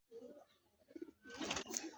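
Soft, low racing pigeon coos repeat a few times near the middle, followed by a louder burst of rustling, flapping noise.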